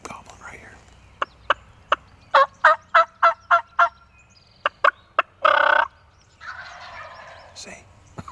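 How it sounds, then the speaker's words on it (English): Wild turkeys gobble outdoors on a spring hunt, a run of sharp repeated gobbles in quick succession at moderate distance, then a brief burst of rougher noise and quieter rustling. "So they just keep gobbling right here."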